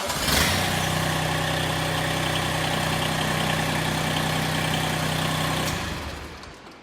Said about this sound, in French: Ça va être de redémarrer mon moteur.